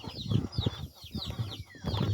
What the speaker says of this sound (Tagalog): So, tawagin natin yung ating mga manok